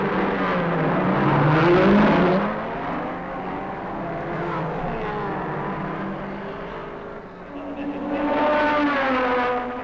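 Identical 3-litre Ford Consul saloons racing one another, their engines roaring loudly as they pass near the listener and then fading, with overlapping engine tones rising and falling before another loud surge at the end.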